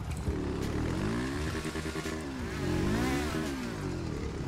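A motorcycle engine in the GTA RP video game revs up and down repeatedly, loud and close, with a buzzing, rising and falling pitch throughout.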